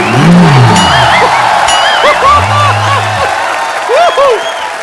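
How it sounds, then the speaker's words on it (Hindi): The studio audience at The Kapil Sharma Show applauds loudly for yoga guru Baba Ramdev. Dense clapping and crowd noise carry throughout, with whoops and swelling musical tones over it. "जोरदार तालियां एक बार बाबा जी के लिए"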